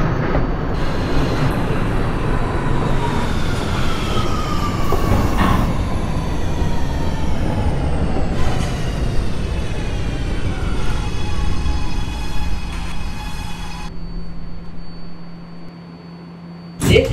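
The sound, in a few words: R211A subway train running, from OpenBVE train simulator video game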